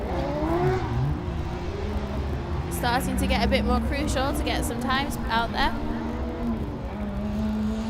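Formula Student race car on an autocross lap, engine revving and whining through rapid upshifts and downshifts at moderate distance, under a commentator talking throughout.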